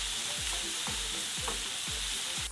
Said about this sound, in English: I'm gonna add in my garlic. Then I'm gonna go ahead and add in the onions.